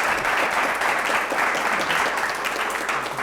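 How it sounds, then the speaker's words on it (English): Audience at a UX design student and speaker meetup in Poland applauds a departing speaker with steady, dense clapping that holds at an even level throughout, no voices rising above it. "So please give him a big applause."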